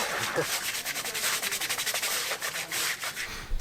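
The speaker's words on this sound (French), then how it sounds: "je suis en train de nettoyer le tapis de sol" A car floor mat is scrubbed hard, close up, in a fast series of even, rasping strokes that run steadily with brief gaps and no voices.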